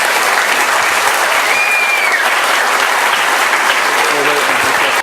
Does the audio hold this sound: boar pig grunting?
no